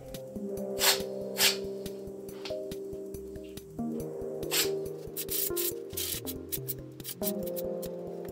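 Compressed air is used to blow excess dust out of an old PDP-11/73 power supply, heard as several short, sharp hissing bursts at irregular intervals over a steady tonal hum.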